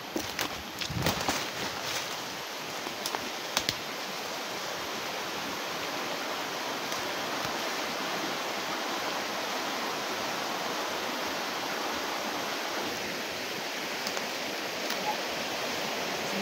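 Creek water flows in a continuous broadband rush, close and steady, with a few faint knocks and rustles near the start and no clear voices.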